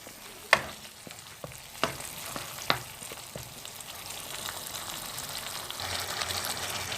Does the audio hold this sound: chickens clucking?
no